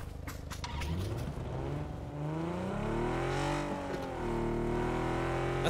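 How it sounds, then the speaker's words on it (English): A car engine revs and accelerates in the PUBG video game, a faint, steady whine rising and falling in pitch as gears shift, with no talk. "we're swapping for this car right here"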